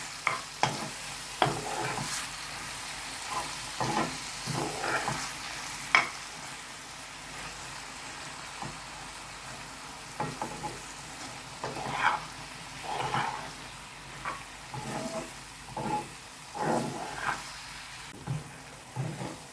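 Chicken liver frying in a pan, with a soft continuous sizzle broken by repeated scraping stirs and clatters of a utensil, close up and fairly quiet, no talking.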